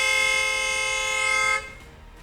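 A recorded car horn played back into an iPad blares one steady, bright, sustained honk for about one and a half seconds, then stops abruptly, leaving faint background noise.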